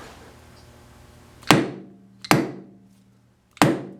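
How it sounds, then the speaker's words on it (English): Three separate hammer whacks land on a heavy-duty Bison lathe chuck, spaced unevenly about a second apart. Each is a sharp, close, loud knock with a short ringing decay, and no one speaks. "Get a 3 little whacks."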